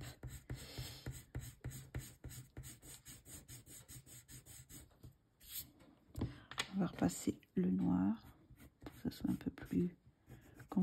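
A colorless blender pencil rubbing over colored pencil on paper, giving soft scratchy strokes in short bursts; close up, with someone talking over the later part.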